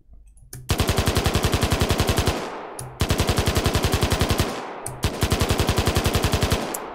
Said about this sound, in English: That's like an AK fire rate.